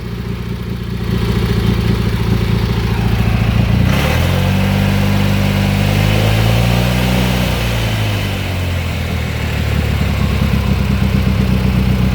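A 1988 Argo Magnum 8x8 amphibious vehicle's opposed-twin flathead engine runs with its factory muffler, a loud steady rumbling idle that rises in pitch and then eases back down, close by with no speech.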